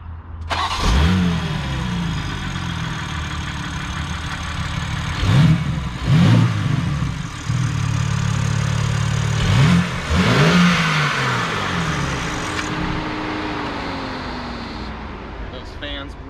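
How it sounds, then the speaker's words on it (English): A 2021 BMW M3 Competition engine cranks and fires up, then revs sharply several times in quick bursts before settling into a steady idle, close and loud. "I'll start it up with the engine open"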